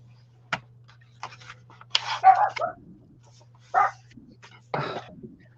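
A deaf dog gives a few short, sharp barks and gruff huffs, fairly close and separated by pauses, over a low steady hum indoors.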